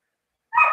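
A dog gives a single sharp, loud bark after a moment of silence, close and clear with a short echo.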